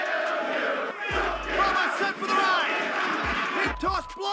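A large wrestling arena crowd roars and chants loudly in unison, with deep booming surges and shouted voices blending into a dense, continuous wall of sound.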